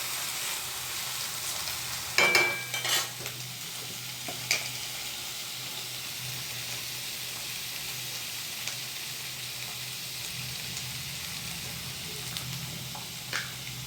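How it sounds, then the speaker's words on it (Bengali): String beans (lubia) fry plain with no spices in a pan, giving a soft, even sizzle with a few sharp clicks and pops early on and no talking. "কিন্তু আজকে সাদাই ভাজবো, বেশি মশলা টশলা দেবো না, সিম্পল ভাজবো ব্যাস"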